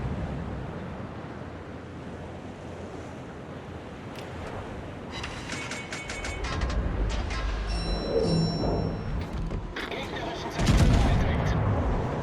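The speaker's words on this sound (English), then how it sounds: "So I'm just going to keep shooting at the Monarch over here" Naval gunfire in the World of Warships video game, with distant booms and shell impacts over a constant ocean-like rumble, ending in a louder close blast near the end.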